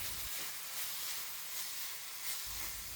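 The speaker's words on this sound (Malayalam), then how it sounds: "എന്നിട്ട് വീണ്ടും ഒന്ന് വഴറ്റി കൊടുക്കാം." Green chili, garlic and ginger sizzle in a pan, a steady soft hiss of frying that stays even and fairly quiet throughout.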